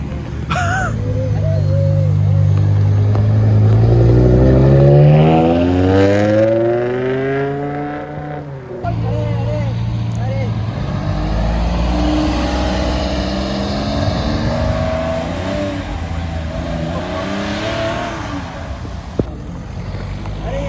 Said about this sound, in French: Toutes les voitures commencent à partir, il y en a dans tous les sens